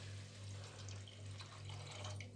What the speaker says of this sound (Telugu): మనం 5 గ్లాసు వాటర్ పోసుకుంటున్నాను